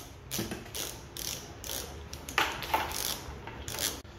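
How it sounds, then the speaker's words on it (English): A half-ton mini lever chain hoist spun freely to lower the load chain, giving repeated bursts of rapid ratcheting clicks and rattling chain links, close and fairly loud, each burst separated by short pauses. "I don't need to sit here and ratchet it, which takes forever. I can just spin it."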